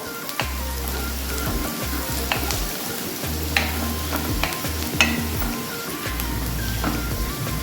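Sliced onions sautéing in a pan for soya masala, a close crackling sizzle with frequent spatula clicks and scrapes over a low hum.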